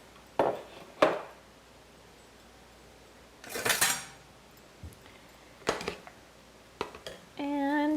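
A spoon clanks and scrapes against a pot as parsley is stirred into sweet potato and beet soup, giving a few separate close knocks and brief scraping bursts with quiet gaps between them.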